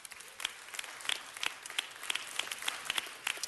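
An audience at a college event in Los Angeles bursts into steady applause, a dense crackle of many hands clapping at moderate loudness for several seconds, with no talking over it.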